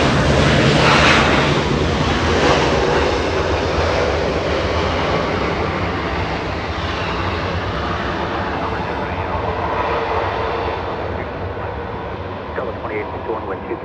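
An Alaska Airlines airliner in San Francisco Giants livery comes in to land at LAX, a loud, sustained engine roar that slowly eases, with a voice talking over it.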